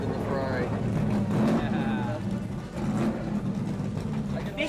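A loud car engine, a louder rival to a Ferrari, roars throughout with a pass-by swell in the middle, heard close alongside excited speech.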